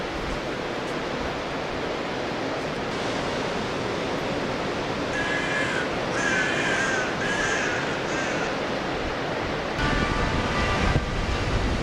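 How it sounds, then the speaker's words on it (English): Seaside at Netanya Beach, Israel: a steady broadband wash of surf and wind, with a few crow caws rising over it partway through. "This is Netanya Beach."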